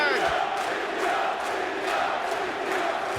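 A large arena crowd at the World Cup of Darts roars and cheers continuously, a dense, sustained wash of voices with rhythmic chant-like swells, loud and close throughout.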